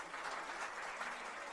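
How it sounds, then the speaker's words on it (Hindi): Audience applause at a Jain religious gathering in Sagar, a soft, steady patter of many hands heard at some distance. "ताली बजाओ उनके लिए"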